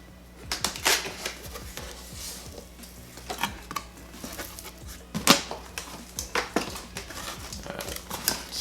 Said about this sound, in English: So let's go ahead and I'll cut the tape here.